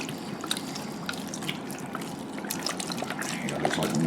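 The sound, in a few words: beef stock poured into a pot over onions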